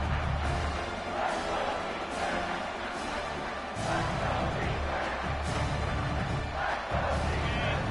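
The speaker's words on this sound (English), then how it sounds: "this big crowd doing everything possible to inspire this defense down here near the goal line" A big stadium crowd roars continuously in an NCAA football video game between Oregon and Clemson during a goal-line stand, a dense, loud wash of cheering that swells in waves, with faint voices mixed in.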